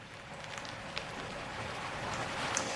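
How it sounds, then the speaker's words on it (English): Light rain falls in Bermuda ahead of Hurricane Ernesto, a steady, close hiss of drops with faint scattered patter and no voices. "We just have some light rain at the moment right now."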